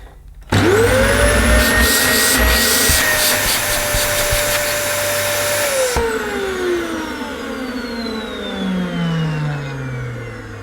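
Dyson DC25 vacuum cleaner switching on with a rising motor whine, holding a loud steady high-pitched drone for several seconds, then powering off and winding down in a long falling tone.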